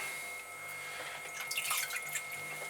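Water dripping and trickling near a potter's wheel while throwing swirly clay mugs, soft close splashes and drips clustering toward the end over a faint steady hum.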